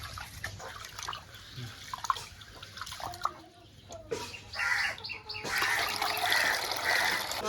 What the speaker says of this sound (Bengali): এভাবে পানি দিয়ে চাউলটা ভালো করে ধুয়ে নিতে হবে